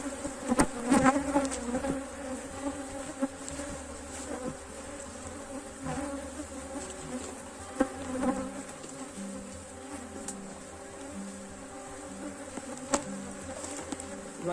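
Honey bees buzzing around a hive box while a swarm is being moved in a beekeeping yard, a steady close drone with individual bees flitting past, plus occasional knocks and handling noises.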